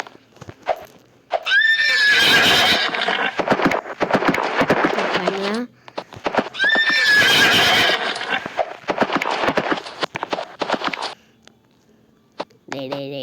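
A horse whinnies loudly twice in a Roblox obby game, each call followed by rapid clattering hoofbeats and sharp clicks, with gaps of quiet in between.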